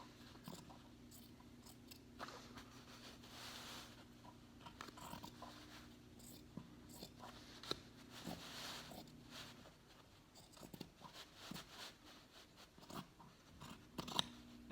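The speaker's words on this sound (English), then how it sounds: "And then just cut all the way across through your markers." Scissors snipping across a T-shirt to crop off the back, a run of close, crisp cuts and fabric crunches at an irregular pace, quiet and with no talk.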